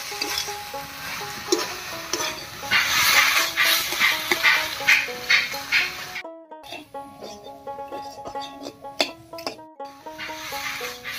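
Dried fish cooking with young ash gourd greens in a pan, sizzling and frying loudly up close while a spatula stirs and scrapes, with a tuneful backing carrying on beneath later on.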